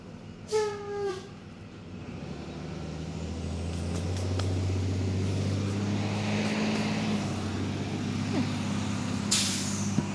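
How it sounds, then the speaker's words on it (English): A school bus rolls past through a suburban neighborhood, a steady low engine rumble building and holding, with a sharp hiss of air brakes releasing near the end. "Sorry, I think there's a school bus."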